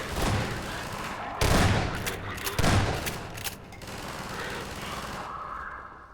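Rapid automatic gunfire and explosive bursts from the Half-Life 2: Episode One video game, loud and dense, with heavy booms near the start and a fading rumble after, under game sounds.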